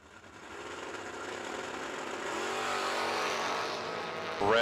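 Drag race cars, a Maverick and a Camaro, racing from a red-light start, heard as a distant engine roar that swells and holds steady, ending in a sharper rising whine.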